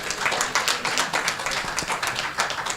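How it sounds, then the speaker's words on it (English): A crowd claps and applauds steadily, a dense patter of many hands at moderate loudness with no voices over it. "Can we give our CDs a round of applause, please?"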